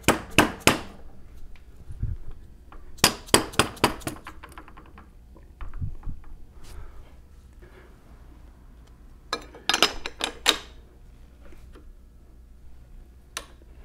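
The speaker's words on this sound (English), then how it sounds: "with a rubber mallet, I'm going to just tap everything forward so it seats against the housing" A rubber mallet taps on Toyota W58 five-speed transmission parts to seat them against the housing, sharp close knocks in quick clusters separated by quiet pauses.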